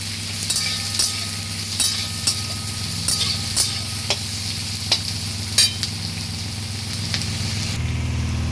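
Onions fry in spiced oil in a pan for a country chicken curry, a steady sizzle broken by regular clinks and scrapes of a spatula stirring roughly once a second, with a low hum underneath.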